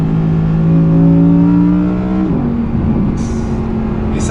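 Audi R8 Performance V10 (2019) idling at light 10% throttle, a steady close engine drone that rises slightly then drops in pitch, continuous and fairly loud.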